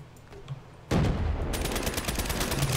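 Gunfire in the multiplayer game Call of Duty Black Ops III erupts after a quiet moment: a loud sudden burst, then rapid automatic fire rattling on continuously, close and dominant, with no talking.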